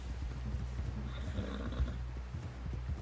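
A horse in Red Dead Redemption 2 clip-clops at a slow walk, with soft hoof thuds and a faint snort or whinny, quiet and close.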